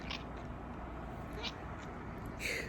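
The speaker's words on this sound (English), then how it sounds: "Honey Cat, if you press a button, she meows." A toy cat that meows at the press of a button gives a short meow near the end, preceded by a couple of faint chirps, over a steady low background hum.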